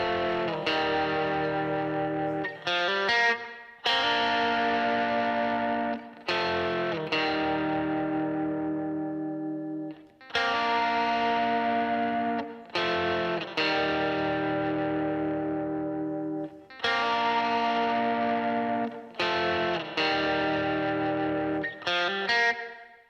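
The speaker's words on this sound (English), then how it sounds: "on this part we're going to be playing thirds." Electric lead guitar with distortion and effects plays harmonized thirds from the verse of a song, in sustained phrases with brief gaps between them, no voice over it.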